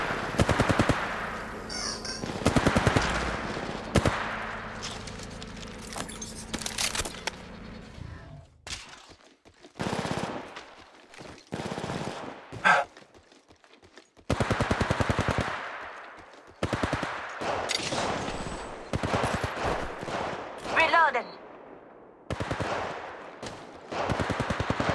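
Rapid automatic gunfire in a video game, coming in loud bursts separated by short pauses and quieter shots, with no speech over it.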